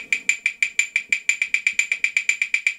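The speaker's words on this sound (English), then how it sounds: "So in this preset, I have a bar of triplets and then a bar of 16th notes" PolyNome metronome app clicking a bar of triplets followed by a bar of 16th notes: a steady run of about eighteen sharp, bright, evenly spaced clicks, close and loud, with no voice.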